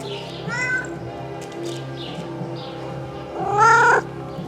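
Cats meowing at a community property, two drawn-out harmonic cries about three seconds apart, the second louder and closer, over a steady low background hum.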